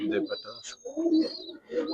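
Giribaz pigeons, among them a black one, coo softly in short repeated phrases close by, while someone talks over them almost continuously.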